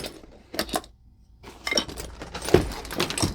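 Allen wrenches jangle and clink in an HVAC technician's tool bag, several short metallic rattles in bursts with a brief quiet gap, handled up close.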